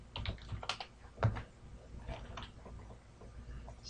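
Quick, irregular keystrokes on a computer keyboard while text goes into a spreadsheet, soft close clicks with one heavier tap, heard alone without speech.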